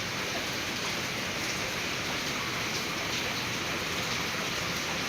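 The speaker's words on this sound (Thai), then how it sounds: "ฝนตกพี่น้อง" Heavy rain pours down steadily in a flood-hit area, a dense, even hiss of water on surfaces that stays loud and unbroken the whole time, with no voices.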